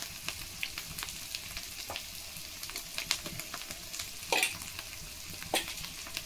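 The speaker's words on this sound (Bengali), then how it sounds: "জিরে বাটাটা ভালো করে মিশিয়ে নেব" Cumin paste is worked into a frying masala for giant freshwater prawn malaikari: a soft, steady sizzle with scattered spatula scrapes and a few sharper clinks, all close by with no voices.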